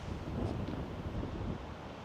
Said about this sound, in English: See that wind, see?